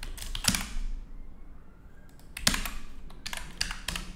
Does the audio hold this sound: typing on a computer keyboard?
yes